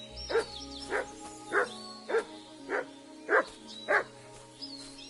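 Mutt, a dog in the video game Kingdom Come: Deliverance II, barks seven times in a steady, evenly spaced series, each bark clear and fairly close, over a quiet low ambient hum.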